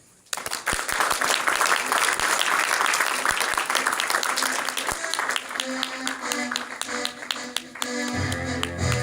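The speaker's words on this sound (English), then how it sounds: "let's please give a warm round of applause for Nat Manny." An audience breaks into sustained applause, dense clapping that rises quickly, holds for several seconds, then thins to scattered claps as it fades.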